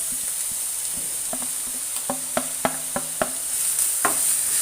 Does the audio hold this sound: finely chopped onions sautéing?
yes